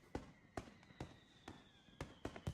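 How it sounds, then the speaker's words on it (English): Fireworks bursting over a twilight festival in the visual novel Katawa Shoujo: a string of sharp booming pops roughly every half second, with faint crackle and a thin whistling tone between them. "Sparking tracers arc upwards, ready to explode in the floral shapes of fireworks."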